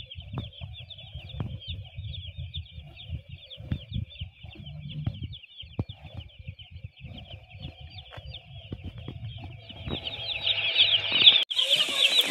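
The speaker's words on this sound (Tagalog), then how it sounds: "Wow, ang daming sisiw." A crowd of broiler chicks, the first batch, cheeps continuously in shrill, dense peeping, with low shuffling, scratching and wing-flutter noises underneath that grow busier and louder toward the end, no speech.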